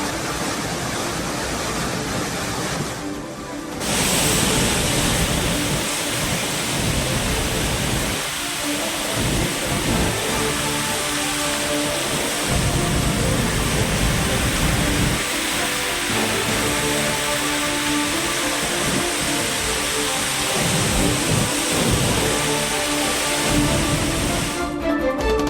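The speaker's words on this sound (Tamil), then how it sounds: "மெயின் அருவி, பழைய குற்றால அருவி, 5 அருவிகளில் ஆர்ப்பரிக்கும் வெள்ளம்." Roaring flood water pours over the Main Falls and Old Courtallam Falls, a dense, continuous broadband rush that stays loud and steady throughout, with a brief dip near the start.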